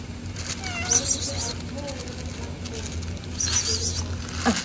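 A cat meows a few times in short, plaintive calls amid light background noise and scattered soft sounds.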